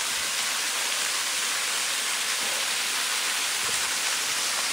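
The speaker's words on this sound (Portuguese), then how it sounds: "vou mostrar a cachoeira do Biluca" Cachoeira do Biluca waterfall roaring in a steady, dense broadband rush that fills the whole clip, close and constant with no breaks or other sounds.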